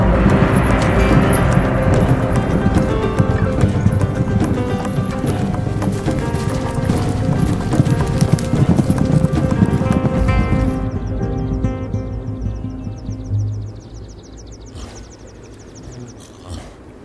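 Hardy Nangchen horses galloping at high altitude on the Tibetan plateau, a loud, dense, continuous drumming of hooves that gradually fades and thins out toward the end.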